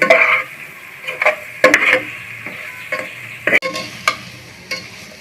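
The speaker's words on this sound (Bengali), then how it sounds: "মরিচের গুঁড়া দিয়ে আমি এটা সুন্দর করে কষিয়ে নিব" A masala of chili powder for a rohu fish curry with potato and cauliflower is sautéed in a pan, with sharp, irregular scrapes and clinks of a spoon over a soft sizzle, close and unvoiced.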